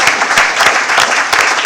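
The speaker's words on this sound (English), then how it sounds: "Expected a little applause for that" Steady, dense clapping from an audience at a board of education meeting, close and even with no voices over it.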